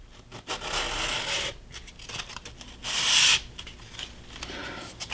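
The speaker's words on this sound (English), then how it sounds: "you can take sandpaper and just in one direction" Sandpaper rubbing over textured painted paper in one direction for a model railroad structure, close raspy strokes with a louder stroke midway and lighter passes after, no voices.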